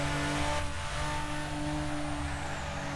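A Toyota Supra in the racing game Assetto Corsa at Mugello, its engine note droning at moderate volume with a brief throttle blip as it downshifts to third, then settling into a steady hum.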